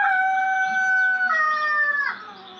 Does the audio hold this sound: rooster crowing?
yes